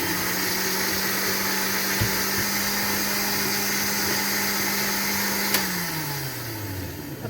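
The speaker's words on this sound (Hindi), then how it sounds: "अब हम ब्लेंडर जग को बंद करेंगे और ब्लेंडर जग मशीन को ऑन करेंगे।" An electric blender making watermelon juice whirs steadily at a high, constant pitch, then winds down as it switches off near the end.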